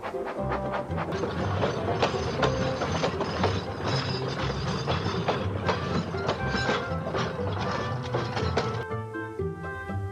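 A heavy goods train hauled buffer to buffer by two locomotives rumbles along the rails with a steady, dense clatter and clank that runs the whole way through, mixed with tonal music.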